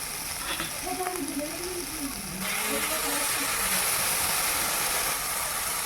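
Water hits a hot pan holding cumin and coriander paste, and a broad sizzling hiss swells partway through and holds steady, with a voice speaking over the start.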